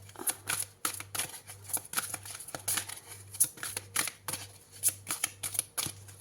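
Tarot cards being shuffled by hand, a rapid run of crisp riffling slaps and flutters repeated in short bursts, close and fairly quiet, with a steady low hum underneath and no talking.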